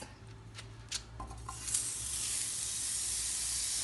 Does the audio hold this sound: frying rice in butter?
yes